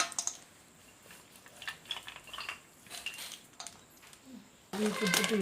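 Masala puffed rice is tossed with roasted peanuts in a bowl, giving soft rustling and scattered clinks of a utensil, ending in a louder burst of clattering.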